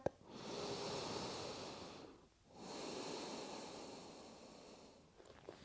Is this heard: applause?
no